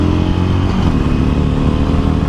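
A Harley-Davidson Iron 883 converted to a cafe racer rumbles loudly and close by, with a steady low engine drone that never lets up through the short stretch.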